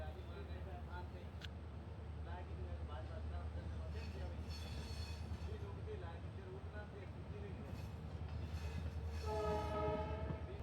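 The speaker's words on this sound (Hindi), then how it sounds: "अभी हमारी ट्रेन लूणकरन से डिपार्चर ले रही है।" A passenger train departs Lunkaransar station on the Bikaner line, heard from on board as a low, steady rumble with faint clattering, while someone talks throughout in a quiet recording.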